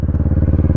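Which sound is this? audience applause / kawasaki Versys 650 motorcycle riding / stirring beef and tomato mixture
kawasaki Versys 650 motorcycle riding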